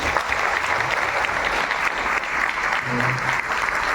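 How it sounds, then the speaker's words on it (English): Audience clapping together at a book launch for a telecom tower technical manual, a dense, continuous burst of applause filling the room at steady volume. "So I would like everyone to applaud once for it."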